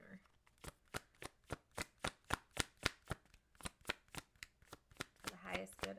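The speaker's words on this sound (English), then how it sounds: "Ooh, kind of hurts to shuffle." Oracle cards being shuffled in a steady run of about sixteen crisp riffling bursts, close and fairly quiet, with a little speech at the end.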